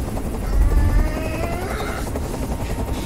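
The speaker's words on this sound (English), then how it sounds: "Tell that helicopter to get out of here." A helicopter in the video game Detroit: Become Human drones loudly and steadily with a throbbing rotor beat, swelling briefly near the start before holding at a constant level.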